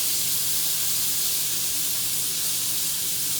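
A flipped steak cooking in a hot pan gives off a loud, steady, dense sizzle, an unbroken hiss with no pauses and no talking.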